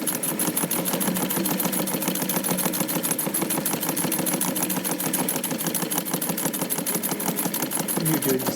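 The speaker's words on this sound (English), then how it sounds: "now let's just sew them up" A sewing machine runs steadily throughout, stitching up pieces of a Monsieur Polichinelle figure in a fast, even mechanical chatter. The motor whirs loud and close without pause.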